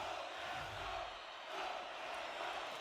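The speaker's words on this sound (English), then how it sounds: "Just listen to the chant." Ice hockey crowd at an SIHL playoff game chanting together in an arena, a steady roaring wash of many voices that swells and dips without pause.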